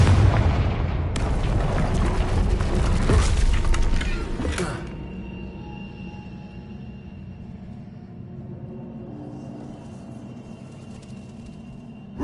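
A Confringo blasting spell in a Harry Potter video game, exploding through a barrier: a loud, crackling burst with heavy booms that fades into a quiet, low-humming ambience.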